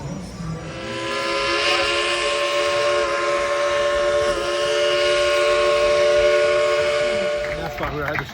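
A steam train whistle at Dollywood gives one long, loud, sustained blast that holds steady for several seconds before cutting off, with faint crowd murmur behind it.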